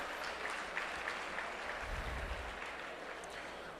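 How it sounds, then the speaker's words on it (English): A charity gala audience claps in a large room at an autism fundraiser. The applause is faint and distant, a soft, steady patter of many hands lasting a few seconds. "So if we can give a round of applause for those guys."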